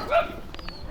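Dogs barking indoors, a couple of short yips and barks, fairly close, with a person's voice mixed in around them.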